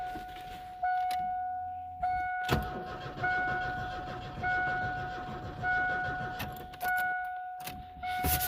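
An old 2.3-litre four-cylinder engine cranks in several short bursts as someone tries to start it, with a steady two-tone warning chime ringing through each attempt and brief pauses between them.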